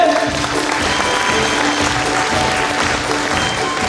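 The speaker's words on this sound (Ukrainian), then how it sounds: "Оплески!" Audience applause at a celebration event with a music ensemble, steady loud clapping from a sizable crowd throughout, without speech.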